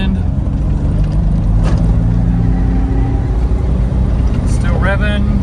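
A Holden Commodore engine heard from inside the car, droning loudly and steadily as it revs under acceleration, with someone talking over it.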